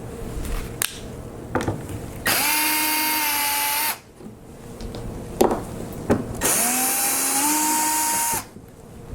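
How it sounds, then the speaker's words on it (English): A power drill backs screws out of a wooden box cover, with two long, loud, steady whirring runs that rise in pitch at the start, plus a few short knocks and clicks between them. "So I'll take out these couple screws and take this cover off."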